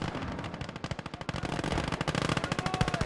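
Rapid, evenly spaced machine gun bursts rattle close and loud in the WWII strategy game Gates of Hell, the rhythm quickening and thickening into near-continuous fire toward the end.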